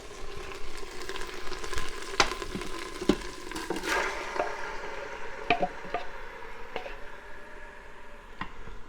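Venison browning in an Instant Pot, a steady sizzle and crackle of meat frying with scattered sharp clicks and scrapes as the pieces are stirred and shifted, close and moderately loud, with no talk.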